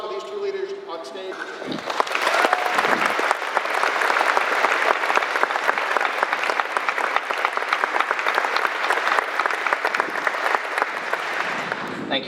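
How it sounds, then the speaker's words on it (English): A speaker's voice gives way to an audience at a 317th Airlift Wing change of command ceremony applauding two leaders on stage, with loud, sustained clapping that continues for about ten seconds. "Let's give another round of applause for these 2 leaders on stage."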